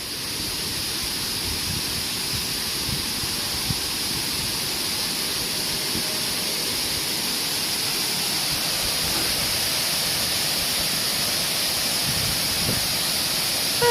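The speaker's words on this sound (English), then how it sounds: "Ooh, it's falling water." Steady broadband rush of a waterfall along the Appalachian Trail, falling water pouring continuously and fairly loud at close range for the whole stretch, with no voices.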